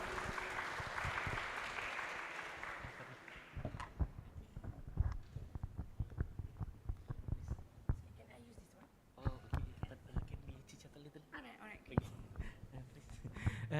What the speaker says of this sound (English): let's give applause for the Dr.